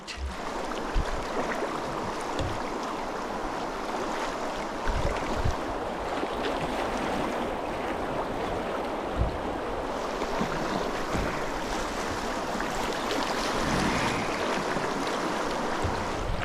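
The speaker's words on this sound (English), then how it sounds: "it looks like we have a little more of the Whitewater." Whitewater on a braided Yukon river rushing past a canoe, a continuous loud roar of churning water with wind buffeting the microphone and occasional knocks, with no talking.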